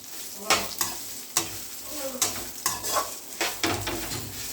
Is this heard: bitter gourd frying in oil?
yes